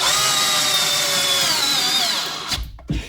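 A LEADER cordless drill driver whines steadily as it drives screws, rising slightly in pitch, then cuts off around two and a half seconds with a couple of short bursts and thuds.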